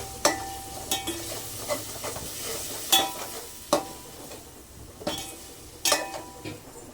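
Drumsticks (moringa pods) fry with chili powder in a pan for sambar. A soft steady sizzle runs underneath, broken by sharp metallic scrapes and knocks of a spoon stirring about once a second. No voices.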